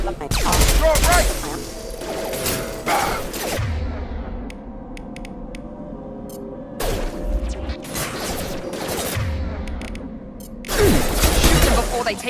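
Bursts of rapid gunfire from the video game Mass Effect 2 erupt in loud volleys with pauses between, mixed with impacts and in-game speech.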